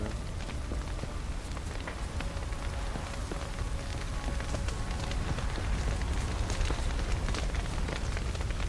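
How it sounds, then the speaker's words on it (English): Steady rain falls in the Assassin's Creed video game, a dense continuous patter on surfaces that holds at a constant moderate level throughout. "Looks like rain."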